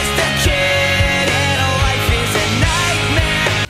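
Another short burst of early-2000s-style pop punk, full band with crunchy guitars, fast steady drum beats and a vocal line, loud and continuous before cutting off sharply at the end.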